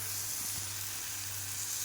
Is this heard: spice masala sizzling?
yes